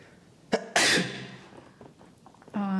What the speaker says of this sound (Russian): Или ты так всегда чихаешь?